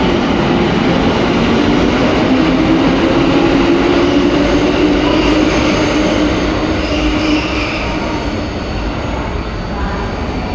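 A train rolls past in Tokyo, a loud steady roar of wheels on rails with metallic squeal and rumble that lasts throughout, close and continuous.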